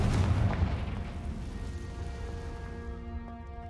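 A Confringo blast spell in Hogwarts Legacy explodes with a heavy boom at the start, then decays into a fading rumble with lingering tonal game sounds.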